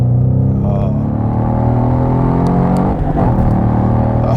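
A 2015 Ford Mustang GT V8, dropped down a gear, roars loudly close by, its deep engine note climbing as it revs and accelerates across the whole stretch.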